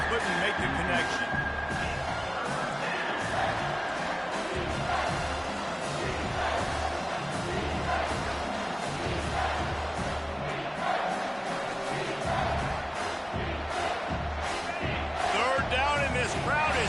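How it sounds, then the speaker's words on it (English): A loud football stadium crowd roars continuously through a Tennessee versus South Carolina college game, a dense wall of cheering that carries under a commentator's voice. "This crowd is tearing the lid off this place."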